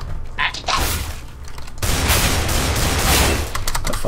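Automatic gunfire in Counter-Strike: Global Offensive, Arms Race mode, a dense continuous burst of rapid shots lasting several seconds, loud and close, with brief mechanical clicks near the start.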